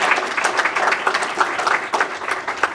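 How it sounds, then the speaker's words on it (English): An audience applauds EMS students at a career and technical education information event, a steady wash of many hands clapping throughout. "we can give them a round of applause"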